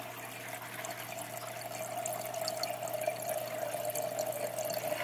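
Water drains out of a flooded garden bed, a soft, steady trickling and gurgling heard faintly and close, with a low constant hum underneath.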